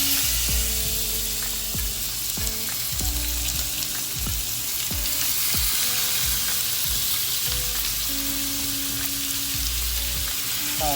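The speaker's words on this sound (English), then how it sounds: "I'm gonna drop the meat inside here" Seasoned meat fries in a skillet for a Caesar salad, a steady loud sizzle with repeated crackles and spatters, and low tonal hum from the stovetop running beneath it throughout.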